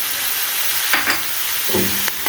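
Chicken liver frying in a pan with two green chili peppers added, giving a steady close sizzle with a few brief stirring scrapes and bursts of hiss, no talking.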